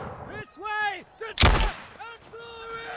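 A single loud, sharp gunshot with a booming tail goes off in a video game battle in an Empires of Europe arena, where lead-ball firearms are used; a voice speaks before and after the blast.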